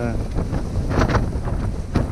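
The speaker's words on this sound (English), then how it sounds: "The wind's picked up." Strong wind on Sheeps Tor buffets and roars against the microphone in continuous heavy gusts, loud and close.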